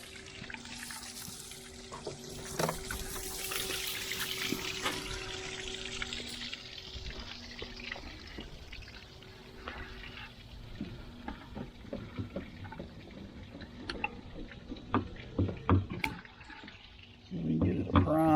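Water from a hose splashes to prime the outboard motor of an old bass boat, a faint hissing flow with clatters and knocks, while someone talks at times.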